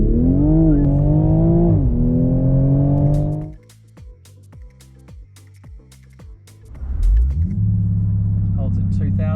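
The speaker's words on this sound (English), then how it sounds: "Put it in sport mode, press traction button once, puts it in launch control. It revs up to 2000" Sports car in sport mode with launch control engaged: the engine holds a loud, high rev, drops away into a low idle with rapid ticking pulses, then surges back into hard acceleration near the end. A voice speaks over it.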